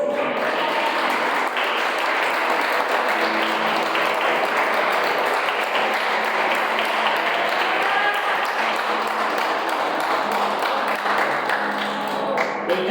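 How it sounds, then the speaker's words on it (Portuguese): A church congregation applauds steadily throughout, dense clapping with voices mixed in and some ringing tones, filling the room at full loudness from start to end. "Os que são santos aplaudem a este Deus."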